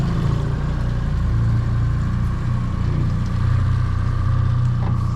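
A Yamaha F250 outboard on a 2018 Alumiweld 23 Super V tiller jet boat runs in gear, a steady loud close engine drone with a deep low rumble that holds evenly throughout.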